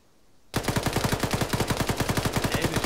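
Rapid automatic gunfire in the military shooter ArmA 3 bursts in after a half-second of quiet and hammers on in a loud, steady rhythm of close, evenly spaced shots.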